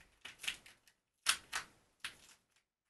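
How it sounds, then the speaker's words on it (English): An original Xbox hard drive is pulled from an anti-static bag held with sticky tape, giving short, sharp crinkling and ripping bursts in quick succession, close and fairly quiet. "Just bear with me while I try and unwrap this drive from its bag of doom."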